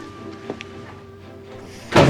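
A door slams shut in a dramatic indoor scene, one heavy thud near the end after a quiet stretch with a few faint knocks and rustles.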